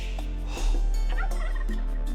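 Turkeys gobble in Age of Empires II, a dense flock crowded into a town centre, their calls overlapping in a loud, continuous burble with no talking.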